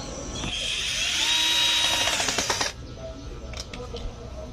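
Power drill driving screws into the back of a DIY wooden chair, a loud whirring burst for nearly three seconds that rises in pitch, then stops, leaving quieter room noise with a few faint clicks.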